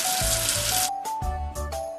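Cartoon game water rinsing soap off a number-2 figure: a steady rushing, hissing spray that cuts out briefly and returns in short bursts, over a light game music tone, close and fairly loud.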